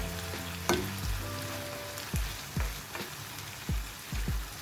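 Goat brain masala with green chilli being mixed and fried in a pan: a soft background sizzle broken by a series of separate spatula scrapes and knocks against the pan, no talking.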